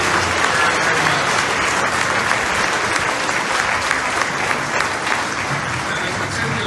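Sustained crowd applause fills the hall at the Ottawa LRT light rail opening ceremony, many hands clapping loudly and evenly for several seconds before easing slightly near the end.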